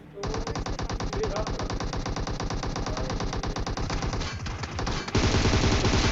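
Continuous rapid automatic gunfire in a battle royale video game, a loud unbroken burst of shots running almost the whole time, briefly thinning before a heavier final volley.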